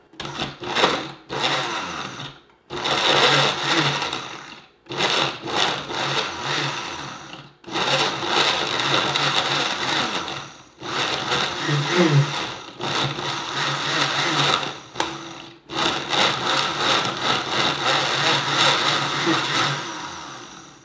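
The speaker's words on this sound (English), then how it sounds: "Start with the ice crush mode on your blender if you have one." A blender on ice crush mode grinds loudly in repeated bursts, pausing briefly between pulses as it crushes ice and strawberries, close and harsh.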